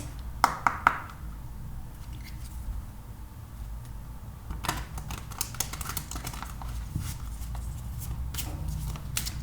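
Tarot cards are shuffled nearby, quick papery riffles and soft flicking taps in short clusters over a low room hum, with no voices.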